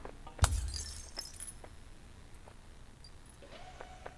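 Glass smashes once with a sharp crash in the video game Human: Fall Flat, followed by scattered tinkling shards and small clinks fading out.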